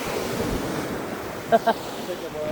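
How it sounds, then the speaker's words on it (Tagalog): Strong sea waves roll and wash at a beach in Botolan or San Felipe, Zambales, with steady gusty wind and wind buffeting the microphone. The broadband roar stays constant, broken by two short close bumps. "lakas ng alon, no? Lakas ng hangin."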